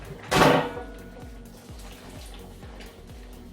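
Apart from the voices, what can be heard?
water poured into a pan for tomato sauce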